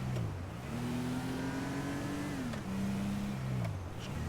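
Car engine in GTA roleplay in Los Santos, a steady loud drone that rises and falls in pitch as the driver revs and shifts, continuous and close with no talking.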